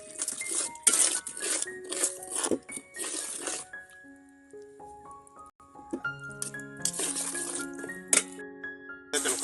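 A metal spoon clanks and scrapes against a pot while egg and lentil khichdi is sautéed, making irregular bright clinks with ringing tones, several close hits in quick clusters and brief pauses between them.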